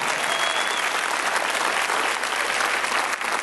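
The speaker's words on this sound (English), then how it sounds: "would you clap your hands and give God praise?" A church congregation claps together in praise, a loud, dense and continuous burst of many hands with a faint crowd murmur beneath it.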